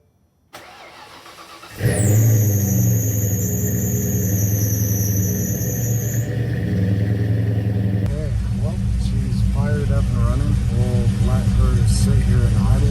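A Ford car's engine, just repaired with a new fan controller, cranks and catches, then settles into a steady, loud, close idle rumble with a faint high whine above it for a few seconds.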